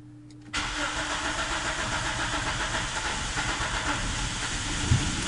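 A car engine on a cold start, run by rusEfi engine management, cranks and catches abruptly, then runs with a steady rough idle, loud and close, continuing without pause.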